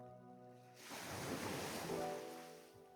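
At Crystal Bay beach in Thailand, a rocky-sided small beach with white sand, a single ocean wave surges and washes in softly, swelling for about a second before fading back to quiet.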